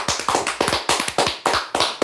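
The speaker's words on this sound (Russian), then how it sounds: "Дайте аплодисменты." A small group applauding, sharp hand claps in a quick, uneven rhythm, close and loud with no talk over them.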